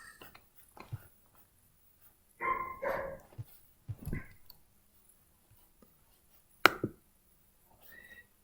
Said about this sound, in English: My dog almost caught a bird.